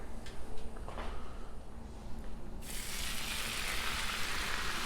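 Thin cut bacon laid on a Blackstone griddle, with a soft clatter as strips go down, then a broad steady sizzle that rises suddenly and holds, close and loud.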